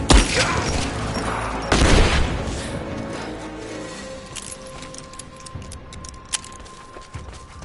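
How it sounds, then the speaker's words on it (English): Grenade blast in a PlayStation 4 shooter game, a loud opening boom followed by a second heavy burst, then fading rumble with scattered distant pops and clicks. "Throwing a grenade!"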